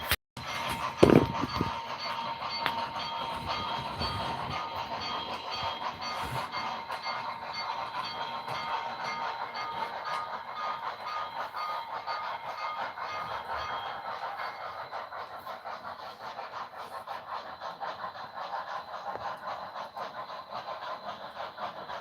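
A model train runs along its track with a continuous close, rolling hum and light clatter, steady throughout and briefly punctuated by a knock near the start.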